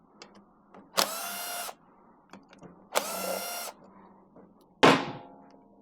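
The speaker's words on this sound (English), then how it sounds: "Now we're going to take this power valve cover off." A dirt bike power valve cover being worked off by hand, with two sustained whirring bursts from a power tool and a sharp clatter near the end, separated by quieter handling noises.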